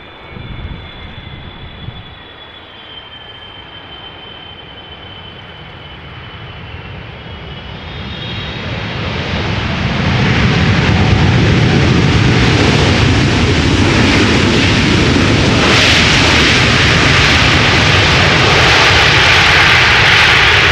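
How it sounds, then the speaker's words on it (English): A Chinese airline's Boeing 777 landing at Amsterdam Schiphol Airport: a distant jet whine swells over several seconds into a loud, sustained broadband roar as reverse thrust engages and holds, with no talking. "These triples from China do know where to find the reverse thrust lever"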